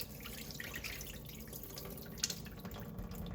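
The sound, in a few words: washing bulgur in water by hand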